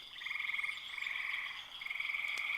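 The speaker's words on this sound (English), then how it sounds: "these frogs should be quieting down here in the next hour" Frogs croaking at night at a campsite, a dense, continuous chorus of rapid trilling calls, fairly faint and steady, with no talk.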